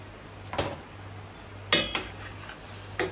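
A piece of butter is dropped into a cooking pot, heard as a few light metallic clinks and taps against the pot spaced over a few seconds over a faint steady hum.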